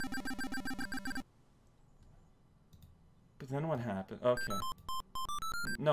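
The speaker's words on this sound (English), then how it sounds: "that's the piccolo here that makes that sound." A piccolo in the video game Tails and the Music Maker plays bright, high whistling notes in short bursts at the start and again near the end, while people talk over the music.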